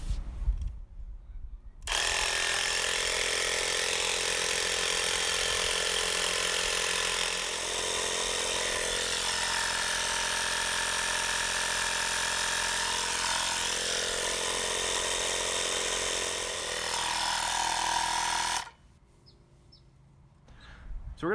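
A portable air compressor pump inflating a truck tire from 10 to 40 pounds runs with a loud, steady mechanical buzz for about seventeen seconds, starting and stopping abruptly, with quieter room noise on either side.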